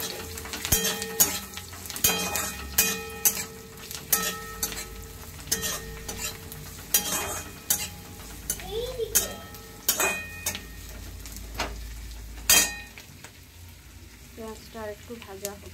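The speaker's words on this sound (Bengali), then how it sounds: "পেঁয়াজটা আরেকটু ভাজা হচ্ছে" Onions frying in a pan with spatula scrapes and sharp clacks against the metal, irregular knocks over a low background sizzle, fairly close.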